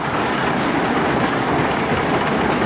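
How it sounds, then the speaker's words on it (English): A continuous loud mechanical rumble and clatter of a large amusement ride running, with rattling cars and a steady roar, no voices. "Yeah, that's a pretty good sized whip ride here for the kids."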